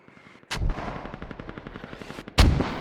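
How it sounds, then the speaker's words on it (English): Gunfire in the military video game Squad: two heavy booms, one early and one near the end, with a rapid train of shots between them, all loud and close. "the mortars are really sweet"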